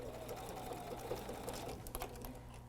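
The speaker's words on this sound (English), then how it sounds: "I'm sewing just a little bit greater than a 1/4 inch seam allowance" A Bernina 770 sewing machine runs a quarter-inch seam on a jelly roll rug, a soft, fairly faint steady whirr with light rhythmic ticking of the needle throughout.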